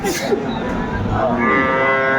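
A dairy cow lets out a loud, close, drawn-out moo at the Aftabganj cattle market in Dinajpur, with faint crowd noise behind.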